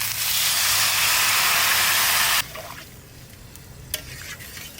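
Water poured into a cauliflower-potato curry frying in a pan sets off a loud, close burst of hissing sizzle that cuts off sharply halfway, leaving a quieter simmer with faint clinks.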